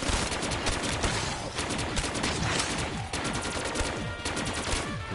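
Dense, continuous bursts of automatic gunfire and rapid shots from a zombie video game, loud and sustained throughout with no talk over it.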